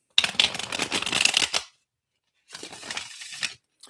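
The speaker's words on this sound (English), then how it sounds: "It takes a minimum of 7 good riffle shuffles." A deck of tarot cards is riffle shuffled close by: a long rapid fluttering burst, a brief silence, then a second shorter riffle, crisp and loud with no voices.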